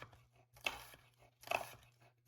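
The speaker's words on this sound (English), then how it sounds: "So first I am going to cut my onion." A knife chopping half an onion into small pieces, two soft crunchy cuts roughly a second apart, quiet and close, with a low steady hum underneath and no talking.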